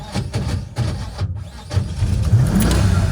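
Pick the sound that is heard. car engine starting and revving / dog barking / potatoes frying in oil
car engine starting and revving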